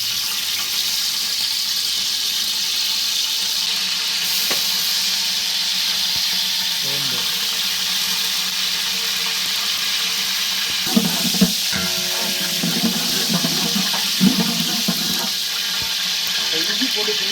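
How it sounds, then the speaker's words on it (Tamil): Hot refined oil in a heated pan for a large batch of spicy chicken gravy, with curry leaves and fennel in the pot, giving a steady, loud broadband hiss with a few brief crackles and clatters later on. "எண்ணெய் ஊற்றினதுமே நல்ல சவுண்டு."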